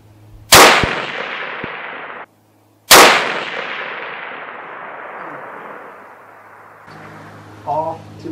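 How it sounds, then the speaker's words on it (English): Two loud, sharp rifle shots from a .300 WSM fired at a 1,000-yard range, each followed by a long rolling echo decaying over seconds, with a voice speaking faintly afterward. "I might as well shoot the rest of these bullets out of here."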